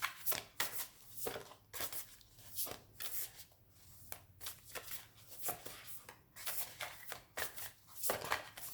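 Tarot cards being shuffled, a series of soft riffling bursts and taps close by, quiet and irregular with brief pauses, with no talk.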